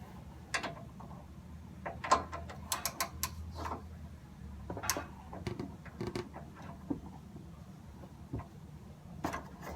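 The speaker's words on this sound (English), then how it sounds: "All you will need is a 15mm socket and a pretty long extension with a ratchet" A ratchet with a long extension and a 15mm socket loosens the nut on a Chevy Silverado suspension bumper. Close, irregular bursts of ratcheting clicks and small metallic knocks spread across the whole stretch, with no talking.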